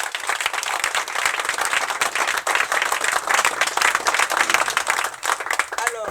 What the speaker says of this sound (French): nous devons applaudir fortement